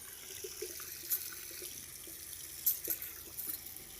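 A household water tap runs with a steady, faint hiss of flowing water, broken by a few brief splashes and clinks. No voices are heard.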